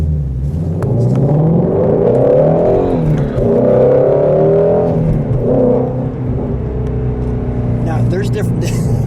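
A blue pre-production 2019 Ford Shelby Mustang GT350R pulls away from a green light, its engine rising and falling through several loud revs with a steady rumble underneath and a brief higher burst near the end.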